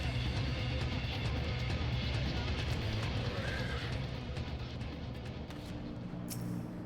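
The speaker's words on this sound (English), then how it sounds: "Also, I now have a flying horse." A flying horse mount in Final Fantasy XIV: Heavensward neighs over a dense, steady wash of game background noise, with faint hoof clops mixed in; no talking.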